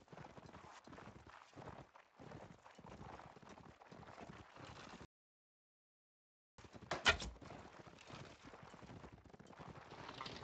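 Horses' hooves clip-clop in a strategy video game match, a dense stream of overlapping hoofbeats interrupted by a brief silence, then resuming with a sharp hit.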